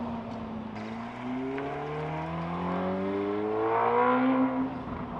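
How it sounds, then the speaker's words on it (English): A sports car engine revs and drives past at a car show, its tones sliding upward as it accelerates, rising in volume to a peak near the end before easing off. "that car sounds so absolutely incredible"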